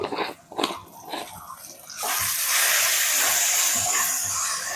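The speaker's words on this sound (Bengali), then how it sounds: "সব মশলাগুলোকে ভালো করে কষিয়ে নেব।" Spices including Kashmiri red chili powder fry in a pan for a home-style Bengali chicken curry. A few knocks come first, then a sudden steady, close sizzle hisses without a break.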